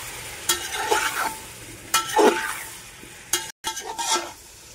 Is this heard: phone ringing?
no